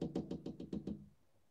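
A cat bashing against a door makes seven quick, evenly spaced knocks in about a second, faint and close, then quiet.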